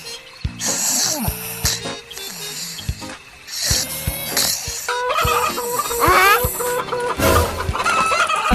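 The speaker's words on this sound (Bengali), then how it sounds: "এত রাতে মুরগি চিল্লাচ্ছে কেন?" Chickens cluck loudly and repeatedly in a coop at night, with agitated squawks and a brief crow-like call, set among cartoon comedy sound effects and music.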